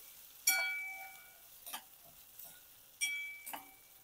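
Finely chopped tomato is stirred into sautéed ginger and garlic in a pan while cooking a black chickpea curry, giving a few quiet scraping strokes over a faint, soft sizzle.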